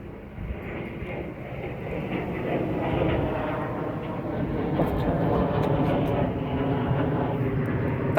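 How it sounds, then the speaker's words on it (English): An aeroplane passes overhead in an outdoor garden, a steady broad droning roar that builds gradually and stays loud throughout, with no talking during the pass. "that's definitely an aeroplane, not just a drone with a speaker"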